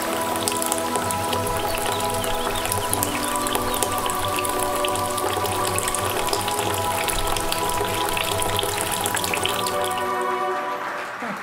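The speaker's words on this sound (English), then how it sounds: "Look at that stream. So much water. Pouring. And gushing." Water pours and gushes steadily in a restroom, a dense continuous rushing stream that stays loud and close before tapering off at the very end.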